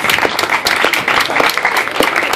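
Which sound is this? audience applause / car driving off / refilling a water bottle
audience applause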